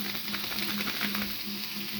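Vegetables fry and are stirred in a pan with cumin powder and other spices, a continuous close sizzle over a low steady hum, with faint scraping from stirring and no voices.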